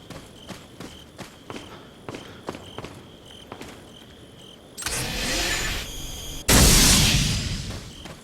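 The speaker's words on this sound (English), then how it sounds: "I could hear the footsteps." Footsteps in the video game Resident Evil 4, a string of crisp, evenly spaced steps close by, followed by a sudden swell of loud rushing noise that jumps louder again near the end.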